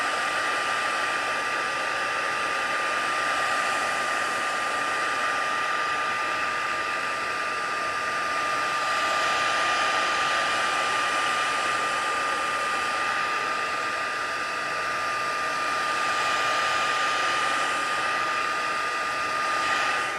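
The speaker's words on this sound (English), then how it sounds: "so we're doing the heat tool." A craft heat tool blows hot air across a distressed watercolour greeting card, a loud, close, continuous whooshing drone with a steady whine that holds unbroken throughout, no voices.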